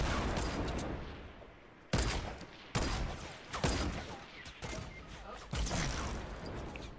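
Gunfire in the video game Fortnite, loud bursts of shots with sharp onsets recurring every second or so through a dense, busy mix.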